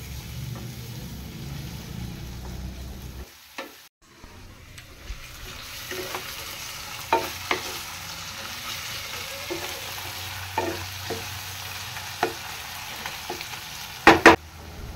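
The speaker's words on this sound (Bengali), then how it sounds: "তো পেঁয়াজ রসুনটা ভালো করে ভেজে নেব।" Onion and garlic paste, with ginger and yogurt, fries in a pan for biryani in a home kitchen, giving a steady soft sizzle broken by a brief pause and sharp scrapes and clinks as it is stirred.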